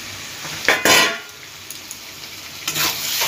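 Prawns and plantain flower stir-frying in a pan, with a couple of loud bursts of scraping and sizzling from stirring over a quieter background hiss.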